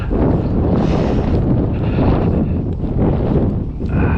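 Strong wind buffets the microphone at an RC plane flying field, a steady loud roar with gusty surges throughout and no voices.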